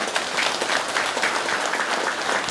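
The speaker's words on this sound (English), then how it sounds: "You like to clap, huh?" An audience claps steadily throughout, a dense, even patter of many hands at moderate distance, with no break or talk over it.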